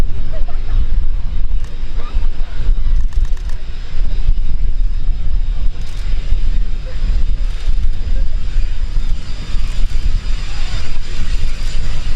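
A Jet Provost T5 comes in to land at the RIAT 2019 airshow, its engine a continuous loud roar over heavy wind buffeting on the microphone.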